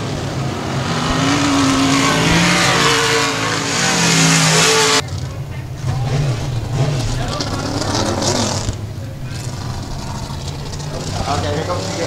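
Race cars roaring around a dirt track at Sabine Speedway, a continuous loud engine drone with revving swells and a passing car, an announcer talking over the noise throughout.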